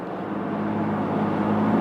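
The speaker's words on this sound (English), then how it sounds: "Oh my god, I'm flooring it." A third-generation Toyota Tacoma with a Pedal Commander fitted accelerates at full throttle, a loud, steady engine drone heard from inside the cab, its pitch slowly rising.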